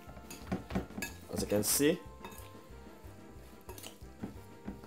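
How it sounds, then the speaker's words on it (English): A big spoon stirs pork stir fry with spinach in a metal pan, giving several close clinks and scrapes against the pan, with a louder clatter near the middle, while someone talks over it. "So you can use a big spoon like mine, which I'm going to be using here. And just simple. Give it a little stir like this."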